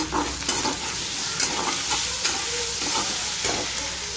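Fish brain sizzles as it is fried in a pan with onion and spices, including ginger and garlic paste, a steady close hiss broken by repeated scraping stir strokes.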